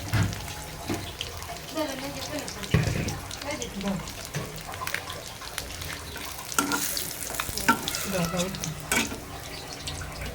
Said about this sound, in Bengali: আমার এখন টাকি মাছ ভাজা হয়েছে